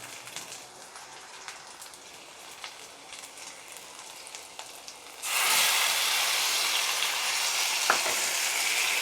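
Tomatoes drop into hot oil in a pan for crab gravy. A quiet frying pan first gives a few faint clicks, then bursts into a loud, continuous close sizzle, with one stirring knock.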